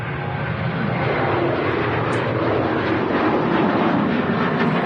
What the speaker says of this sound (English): 737-800. Just rotating there, looking great.